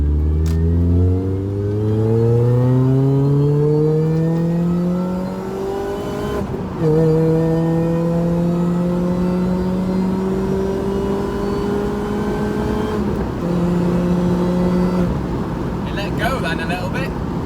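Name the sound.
Mini Cooper S R53 engine accelerating on test drive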